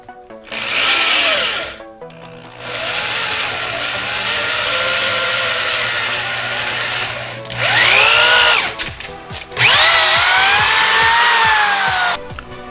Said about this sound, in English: you're going to want to drill a 3/8 inch hole parallel to this nail right here